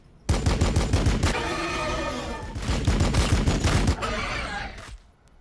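Rapid sustained gunfire in a Warhammer 40,000 Blood Angels versus Tyranids video game battle, loud dense bursts of automatic fire running nearly continuously with a brief break before fading out.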